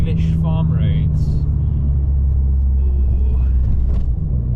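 An Abarth's engine rumbles loud and steady from inside the car as it overtakes a broken-down tractor on a narrow English farm road, with the driver talking briefly over the droning engine.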